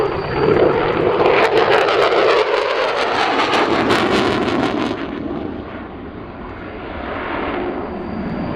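An F-16 fighter jet roars across the sky during a NORAD interception display at the 2024 Abbotsford Airshow. The loud, broad rushing noise swells, then fades slightly toward the end.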